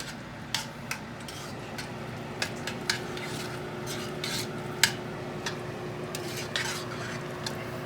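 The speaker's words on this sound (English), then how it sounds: "we're gonna mix the potatoes up until it's nice and fluffy" Butter mashed potatoes with milk being mixed in a pot until fluffy, a continuous soft mushy churning with scattered light clinks of the utensil against the pot, close and steady under a faint background hum.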